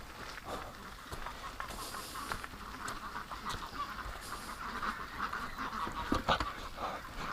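A flock of ducks quacks and honks continuously at moderate distance, a busy overlapping chatter of calls with no voices.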